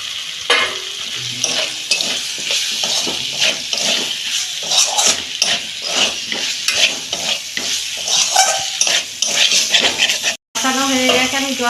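Potato and eggplant pieces frying in spiced oil for a prawn curry, a loud, close sizzle broken by frequent scraping strokes of a spatula stirring the pan, with a short gap near the end.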